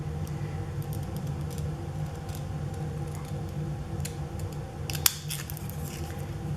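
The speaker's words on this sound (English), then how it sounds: "I am going to cut them with my Fiskars Decal scissors" Fiskars decal scissors cutting paper postage stamps at a scrapbooking desk, a few close, crisp snips and clicks standing out around the middle over a steady low room hum.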